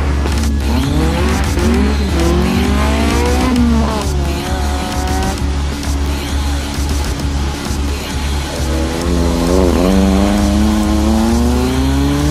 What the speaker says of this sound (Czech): Keď toto je šprinterské auto, je to Škoda Rapid